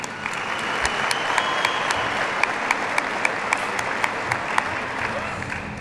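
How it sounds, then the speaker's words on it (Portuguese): Strong, sustained audience applause fills a concert hall at a music awards gala, dense and steady throughout, with a few sharper individual claps standing out near the front. "A eles, um aplauso bem forte, por favor."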